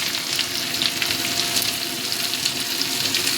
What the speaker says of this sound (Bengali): এবার আমি পেঁয়াজ কুচিটা দিয়ে দিচ্ছি